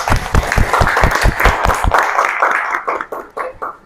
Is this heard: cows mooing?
no